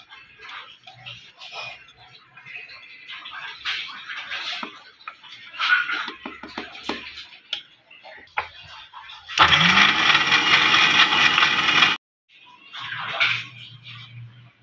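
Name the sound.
mixer grinder blending milk powder and cream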